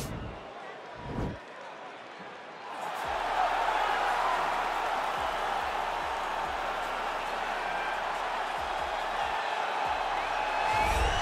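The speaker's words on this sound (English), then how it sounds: "you hear the pop from the crowd" An arena crowd erupts into a loud, sustained roar and cheers as Nate Diaz makes his walk out at a UFC event, starting after a near-quiet opening with a couple of thumps and holding steady to the end.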